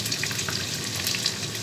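Potatoes fry in hot oil as they brown, a continuous close crackling sizzle that holds level through the short stretch, with no talking.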